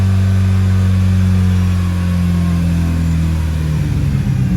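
A cold Mitsubishi Evo engine with a low-idle fault is held on the throttle, a loud, close, steady drone whose pitch sags and wavers as the revs drop near the end, with no voices.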